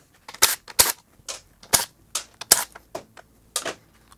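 Sharp metallic clicks and ratcheting taps from a 10 mm socket wrench loosening bracket bolts on a 2023 Suzuki GSX-8S motorcycle, arriving in irregular close bursts with short pauses between, no talking.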